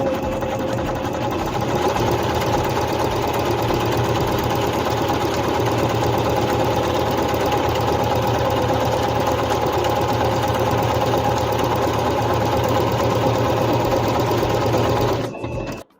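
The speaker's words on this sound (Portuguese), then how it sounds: "Sem fazer o arremate, eu faço o zigue-zague de uma extremidade à outra." Singer C5605 electronic home sewing machine stitching zigzag across fabric, a loud continuous rapid mechanical whir held steady for about fifteen seconds before stopping abruptly.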